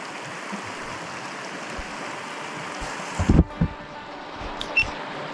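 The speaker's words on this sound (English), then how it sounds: "Cross that raging river." Lime Creek runs fast in the San Juan Mountains, a steady wash of rushing river water heard close by, with a few brief splashes and knocks partway through.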